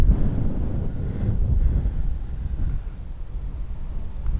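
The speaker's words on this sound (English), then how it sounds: "Especially with this wind, it's battering us now, isn't it?" Strong wind battering an outdoor open space, with steady loud roaring gusts and microphone buffeting that run continuously and fill the whole stretch with no talk.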